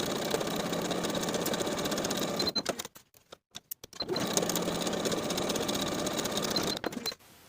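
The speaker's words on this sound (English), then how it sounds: "Sew the top and bottom edge with a 1/2 inch seam allowance." Sewing machine stitching the top and bottom edges of a dress pocket and its lining, a loud steady mechanical whir that stops briefly for a few seconds before running again.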